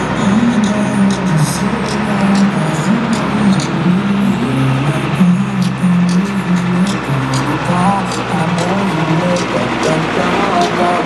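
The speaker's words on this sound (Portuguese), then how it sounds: "Olha lá, o trem tá passando, vou filmar o trem pra vocês." Tourist road train, a truck cut in half and made up as a train, rumbling past at close range as a motor vehicle, with people talking loudly over it throughout.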